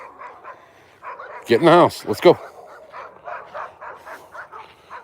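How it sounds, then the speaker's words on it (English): A neighbor's pack of dogs barks in a burst of loud, overlapping yaps close by, then keeps up fainter, rhythmic barking in the distance while a person talks. "They got like 30 dogs that never stop barking."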